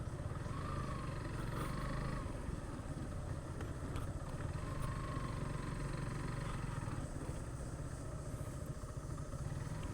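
A motorcycle rumbles steadily along a forest road deep inside Madhupur National Park, a faint, continuous engine hum with light rattles and distant bird calls above it.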